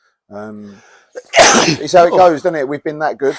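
A sharp, loud sneeze bursts out close to the microphone in a post-match football interview, a short hum before it and a man's speech following straight after.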